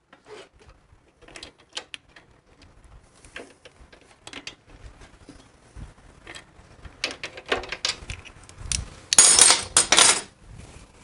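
A lug bolt being removed from the wheel of a Harley-Davidson Panhead motorcycle, with scattered metallic clicks, taps and tool rattles close by, ending in a loud, sharp metal clatter.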